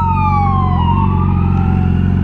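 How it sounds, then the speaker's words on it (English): A police car siren wails loud and close as a steady, sliding tone over a deep rumbling engine drone, with no one talking, during a roadside stop of a Yamaha R6 motorcycle. "That's the sound of the police."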